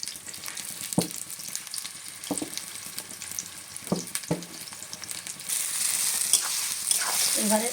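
Olives for pickle sizzling in a pan, a steady frying hiss with a few sharp stir knocks, the hiss growing louder and brighter toward the end.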